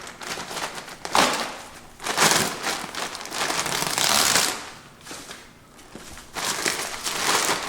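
Plastic-wrapped caustic soda packaging being handled, giving loud bursts of crinkling and rustling plastic that rise and fall in several close, uneven bouts.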